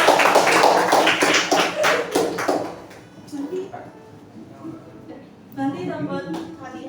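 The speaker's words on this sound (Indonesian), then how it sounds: "Teman-teman tepuk tangan dulu buat Xavier udah gitu." Children in a classroom clap their hands together, a loud run of rapid claps that fades after a few seconds, followed by voices and chatter.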